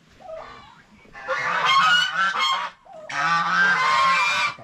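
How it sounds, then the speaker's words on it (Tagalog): Loud, harsh honking calls from turkeys nearby, coming in two long noisy bursts after a few shorter squawks. "Yan o, maraming pabo na naglimlim"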